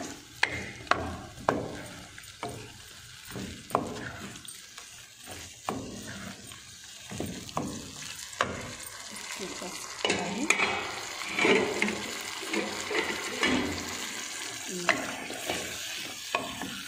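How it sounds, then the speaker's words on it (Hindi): Mutton karahi frying over high heat in a pan, with repeated clattering scrapes and stirring knocks of a utensil over a steady sizzle, close and fairly loud, no talk. "तो मैं इसे ज़रा अच्छे तरीके से भूनती हूँ"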